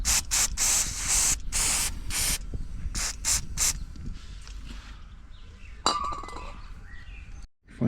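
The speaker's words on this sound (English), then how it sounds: "just clean it with some brake cleaner." Brake cleaner sprayed onto a motorcycle brake caliper in several short loud hissing bursts, followed by quieter clinks and handling noises.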